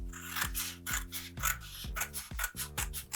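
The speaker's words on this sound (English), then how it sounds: "I'm just going to cut that and put that to one side, and then cut this one out." Scissors cut out paper close up in a series of rhythmic snips, each with a crisp rasping stroke, about seven cuts in quick succession.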